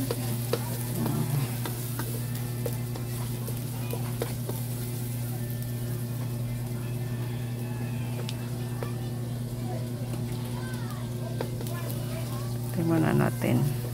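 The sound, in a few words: sautéing garlic and onion in a pan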